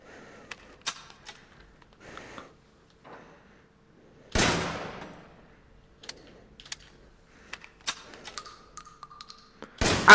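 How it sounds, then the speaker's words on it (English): Shotgun blasts in the Resident Evil Village survival horror game, two loud broadband booms, one near the middle and one at the very end, separated by quieter clicks and taps. "Shotgun!"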